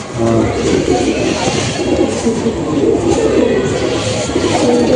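Fancy chotiyal pigeons (ফ্যাঁসা চটিয়াল) coo steadily at close range in a loft, their low murmuring continuous over a noisy background with some talk mixed in.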